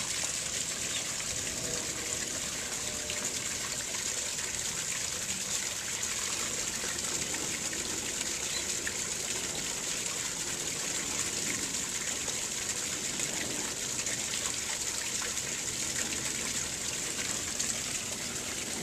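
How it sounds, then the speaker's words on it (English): Waterfall flowing at low water level outdoors, a steady, rushing hiss of falling water that stays even and moderately faint throughout, with no talking. "Waterfall over here."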